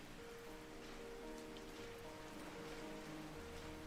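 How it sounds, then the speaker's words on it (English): Steady rain falling in a video game's weather system, a continuous hiss of drops on a surface with faint tonal game music underneath and no talking. "Oh, it's starting to rain."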